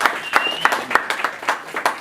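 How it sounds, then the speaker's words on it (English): A comedy show audience gives a performer another round of applause, a sparse set of distinct claps landing in a loose rhythm, close and fairly loud over a low room murmur. "Y'all give Thomas another round of applause."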